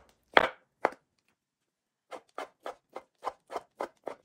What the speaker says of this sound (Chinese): 将香菇切成小丁